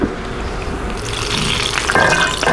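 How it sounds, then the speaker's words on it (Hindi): Paneer fries in a pan and splatters, a steady, moderately loud hiss with crackles that grows busier partway through. No one speaks. "पनीर में ना पानी होता है ना, उसकी वजह से छींटे आते हैं। तो ये अभी भी आ रहे हैं"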